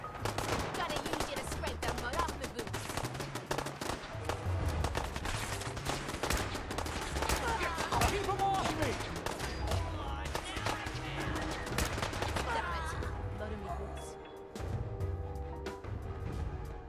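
Rapid bursts of companion gunfire from Fallout 4 rattle through the whole stretch, dense machine-gun style volleys with some single shots, loud and continuous before easing near the end.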